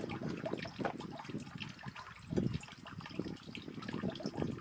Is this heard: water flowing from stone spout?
yes